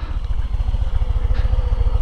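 Harley-Davidson Road Glide ST motorcycle idling nearby, a loud, loping low-pitched engine pulse repeating in a steady uneven rhythm with no speech.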